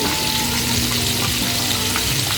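Fish or chicken fries in hot oil with a loud, dense, unbroken sizzle and low bubbling rumble, close up, no voices.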